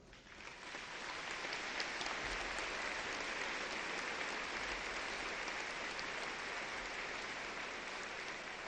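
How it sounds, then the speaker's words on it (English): Graduation audience at the East Central High School 1988 commencement applauds the eight honor graduates: a dense, steady, fairly loud round of clapping that swells quickly and holds for several seconds. "let's have all the 8 honor graduates stand up again and give them a big round of"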